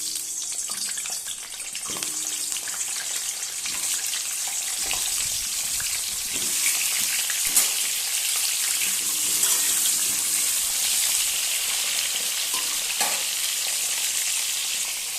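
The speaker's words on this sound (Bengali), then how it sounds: "ওই তেলেই আলুগুলো ভেজে নেব।" Potatoes fry in hot oil for a biryani, a continuous bright sizzle with occasional stirring clinks and light watery crackle, close and steady throughout.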